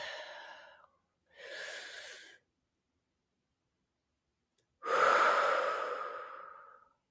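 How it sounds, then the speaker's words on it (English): A slow, deep breath: a short exhale, then a longer inhale, a pause of silence, and a long, full exhale, close and clear with no talk. "let's take a breath."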